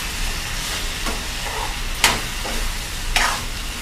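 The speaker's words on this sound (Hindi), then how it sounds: "अब इन आलू को मिलाएंगे" A spoon stirs potatoes with peas and carrots frying in a pan, giving a few distinct scraping strokes over a constant close sizzle, with no talking.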